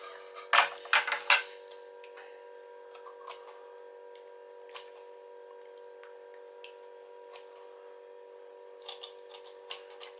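Scissors snipping through pin bones while a fish is filleted by hand: a quick cluster of sharp metallic cuts near the start, then sparse faint clicks and ticks over a steady low background hum.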